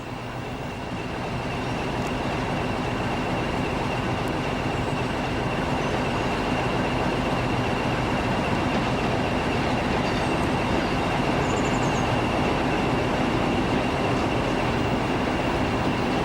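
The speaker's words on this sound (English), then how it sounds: "Approaching Pinal Nova from the west is a 1500 class Alco from Barreiro with a local service for Setúbal" A Portuguese Railways 1500 class Alco diesel locomotive hauls a local train from Barreiro toward Setúbal, approaching Pinhal Novo. Its engine drones steadily alongside rolling wheel noise and track rumble, building to a loud, sustained pass.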